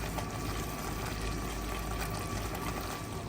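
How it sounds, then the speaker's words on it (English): Raspberry jam mixture boils in a pot on the stove, a dense, steady bubbling roar that holds at an even level throughout. "So now it's boiling, so I'm gonna let it boil for 1 minute."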